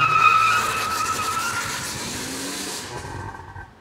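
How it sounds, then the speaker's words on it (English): A car launches hard on a limited-slip differential conversion kit, both drive wheels spinning: a loud, sustained tire squeal and skid over engine revving, easing off toward the end with no talk. "We then wanted to see if we could get both wheels spinning when we launched it."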